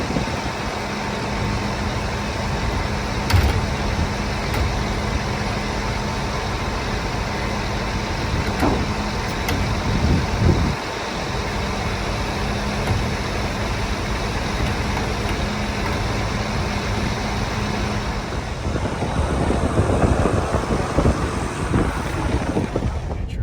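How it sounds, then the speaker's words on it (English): A big vacuum sucking material out runs as a loud, steady machine roar throughout, with a dense engine-like drone that swells and roughens toward the end; no talking. "It's just a big vacuum is all it is right now."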